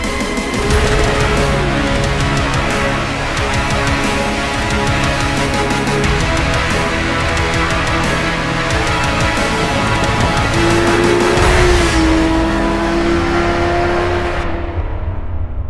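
A Suzuki GSR 600 naked motorcycle engine drones loudly and steadily at high revs, its pitch holding and shifting slightly, close and unbroken throughout.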